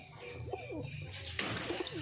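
A domestic pigeon in a home loft coos softly, a few low rolling calls at close range over quiet background hum, with faint rustling from other birds.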